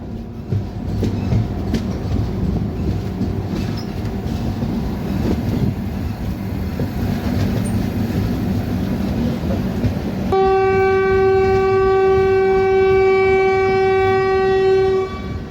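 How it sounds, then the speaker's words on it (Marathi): Mandovi Express pulling out of Ratnagiri station on the Konkan Railway during the monsoon, with a steady rumble of rolling wagons and then a long, loud horn blast sounding through the final seconds. "हॉकिंग सोबत आपली ट्रेन जी आहे ती रत्नागिरी रेल्वे स्टेशनवरून निघालेली आहे"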